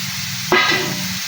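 Long green chili peppers dropped into a hot pan while cooking chicken adobo, a sudden burst of sizzling and hissing steam that flares sharply, then settles into steady frying.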